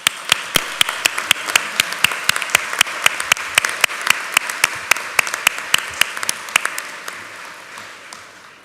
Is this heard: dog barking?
no